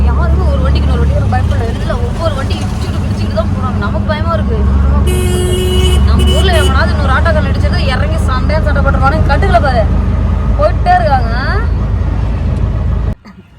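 Busy New Delhi road traffic near India Gate with buses and lorries rumbling close by and repeated car horns tooting and honking, steady and loud throughout, with faint voices in the mix.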